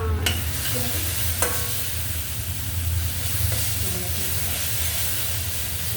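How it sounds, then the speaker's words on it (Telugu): Bitter gourd and tomatoes fry in a pan with a constant steady sizzle, broken by a few stirring scrapes and taps of a spoon. "టమాటా మగ్గిన తర్వాత మనం ఆ కాకరకాయ వేసుకోవాలి."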